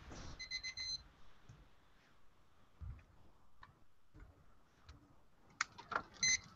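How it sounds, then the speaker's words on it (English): Debate timer alarm beeping in short bursts at the start and again near the end, with quiet room noise and faint handling sounds in between. "Timer."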